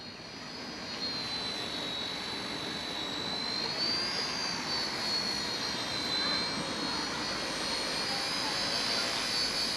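Steady high-pitched whine of a small RC helicopter hovering and flying inverted, continuous and fairly loud with slight pitch drift, under brief outdoor background noise.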